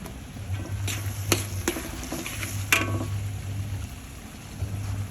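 Chopped onions frying in a pan during home lunch cooking, a soft steady sizzle with intermittent scraping and stirring clinks from a utensil, and a low hum running underneath.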